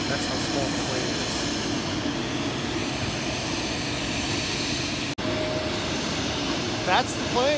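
Steady droning engine noise fills the scene, a constant broadband roar like a small propeller plane nearby, with a brief dropout and some faint chirps near the end.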